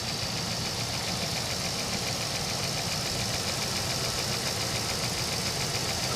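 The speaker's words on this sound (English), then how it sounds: "Or injector noise is really what you're hearing." A truck engine idles steadily at close range, its overhead-cam valvetrain and injectors adding a fast, even ticking over a constant mechanical rumble for the whole stretch.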